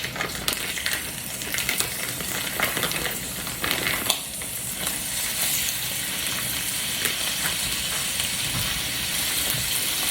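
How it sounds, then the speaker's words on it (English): Ground beef, one pound, sizzling and frying steadily in a skillet, a continuous close crackle and hiss with occasional louder pops, heard alone throughout. "we're gonna go ahead and let this cook for a little bit"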